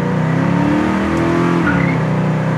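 A 1967 Chevelle Malibu with a low rear gear pulls hard while driving, its engine note rising loud and steady from the cabin. The drone climbs in pitch, then drops briefly as it shifts, with no voices.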